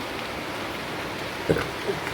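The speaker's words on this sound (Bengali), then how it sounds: "এদিকে ঝমঝম করে নেমেছে আবার বৃষ্টি" Heavy rain pours down outside a window, a dense, even hiss of falling water with a couple of brief louder drips or splashes close by.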